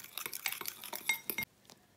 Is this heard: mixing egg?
yes